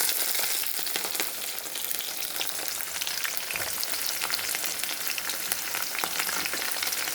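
Onions and green chillies fry in a pan for upma, a dense, continuous crackling sizzle with bright spattering pops, close and steady, with no voices.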